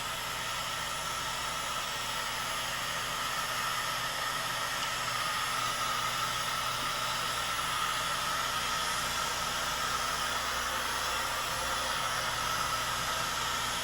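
Heat gun blowing hot air over epoxy on a plastic tank, a steady, loud, broadband rushing hiss that holds unchanged throughout, close and with no voices.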